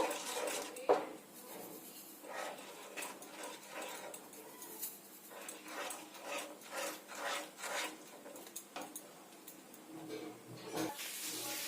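Blended rice being stirred into boiling milk in a pot for a Bengali sweet, with repeated scraping and rubbing strokes of a utensil against the pot, fairly quiet and uneven in rhythm.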